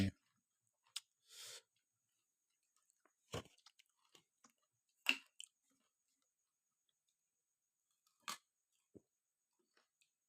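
Crunchy food chewed up close in short sporadic bursts, sharp crisp crunches and clicks separated by near silence.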